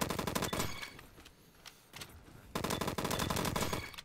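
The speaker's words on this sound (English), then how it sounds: "Who's shooting me?" Bursts of rapid automatic gunfire from a shooter video game, loud and close, with a dense volley at the start, a quieter gap in the middle with a few isolated shots, then another sustained burst.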